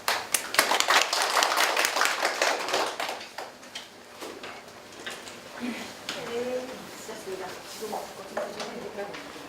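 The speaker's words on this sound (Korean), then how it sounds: "다시 한번 우리 전민구 팀장님께 감사의 박수를 드리도록 하겠습니다" Audience of mothers applauding after a school admissions presentation in a hall, dense clapping loudest at the start and tapering into scattered claps, with some talking mixed in.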